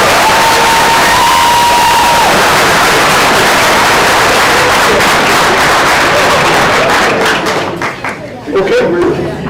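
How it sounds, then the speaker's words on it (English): A high school crowd at a seniors' letter-of-intent signing bursts into loud applause and cheering, dense clapping mixed with shouts and chatter that thins out toward the end as voices take over. "One more round of applause"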